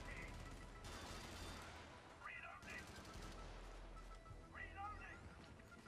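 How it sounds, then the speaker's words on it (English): Heavy machine-gun bursts from the MG in Helldivers, rapid loud sustained volleys in two main stretches with shorter pops between, alongside in-game effects and brief voices. "What is this gun? Oh, the MG."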